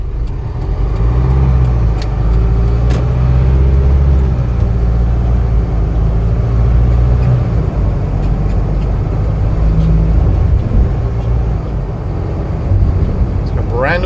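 A 2020 Hino 155 regular-cab box truck with an 18 ft box drives along, its steady low engine drone and road rumble continuing throughout at close range.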